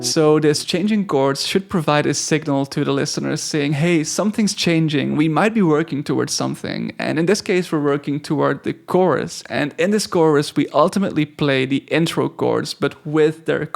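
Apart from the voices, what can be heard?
No distinct noise like a dog, phone or traffic.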